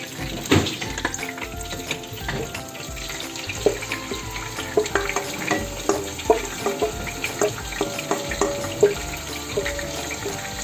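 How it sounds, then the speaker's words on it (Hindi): Minced meat mixture with bell peppers hits hot oil in a pan and keeps frying with a steady sizzle, while utensils clatter and scrape as it is stirred close by. "अब मिक्स करके अब इस गर्म ऑयल में हमने इसको डाल देना।"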